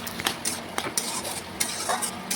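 Fried soybean chunks and ridge gourd stirred in a pan with spices, giving repeated scraping clinks of a spatula against metal with a soft sizzle underneath, close and moderately loud, no voices.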